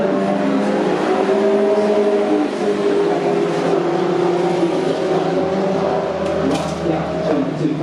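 A Volkswagen Scirocco race car in a CSCC Turbo Tin Tops race at Donington Park drones loudly uphill toward Goddard's, its engine note holding and shifting steadily, with another car close by and race commentary talking over it.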